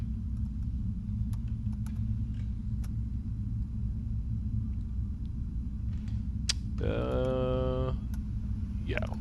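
A steady low roar of Boeing 777 freighter engines at full throttle in Microsoft Flight Simulator hums on continuously, with brief clicks and a short tonal chime partway through.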